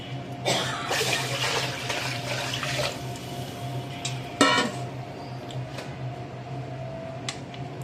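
A steady stream of water runs and splashes into a pot, with a few clinks of metal along the way.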